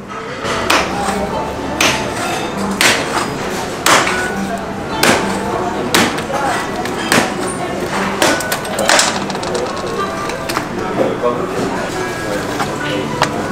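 A clay pot of testi kebab is struck to crack it open, giving a series of sharp knocks and thuds at uneven intervals, close and clear over restaurant background noise.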